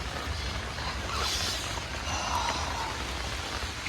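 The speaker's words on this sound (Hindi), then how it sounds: "अभी ज़बरदस्त हो रहा है बारिश।" Heavy rain falls on a forest campsite in India, a dense, loud, continuous hiss of drops with no voices.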